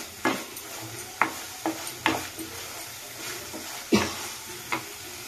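Masala frying for a soybean malai curry with coconut milk, a soft steady sizzle broken by repeated sharp scrapes and knocks of a spoon against the pan at an uneven rhythm, close and with no talking.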